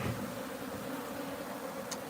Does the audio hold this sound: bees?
yes